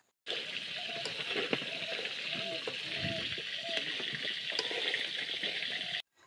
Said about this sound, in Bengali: আদা বাটা ১ চামচ দিয়ে সুন্দর করে নাড়িয়ে নিচ্ছি